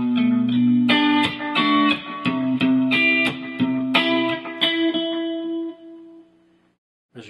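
Measure 43 of a song played slowly on guitar, a string of rhythmic chord strums over a held low note that rings out and fades to near silence before a small final pluck.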